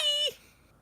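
A talking cat gives a single short meow, a bright tonal cry lasting a fraction of a second before fading into quiet.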